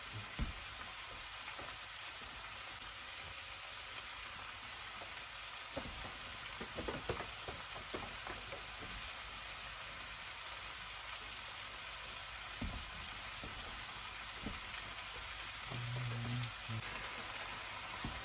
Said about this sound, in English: Throw some buttery steakhouse seasoning on these bad boys. Let them cook down a little bit.